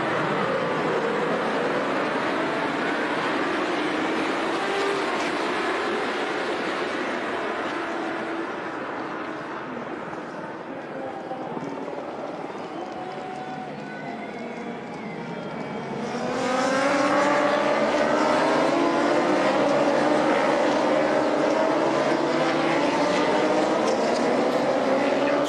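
Endurance racing motorcycles roar away at the start of the 24 Hours of Le Mans motorcycle race, a loud continuous wash of engines that dips in the middle before a fresh surge of nearby bikes swells and holds; commentators talk over it.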